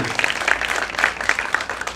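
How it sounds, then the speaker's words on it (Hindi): An audience at a Miss Fabb 2017 press conference applauds Dilip Sen, a steady patter of many hands clapping close by, with no talk over it. "जोरदार तालियां दिलीप सेन साहब"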